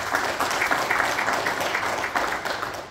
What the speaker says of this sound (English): So can we give God a clap of praise for that?